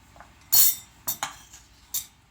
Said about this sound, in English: Now what I'm going to do is just put it into our mixing bowl.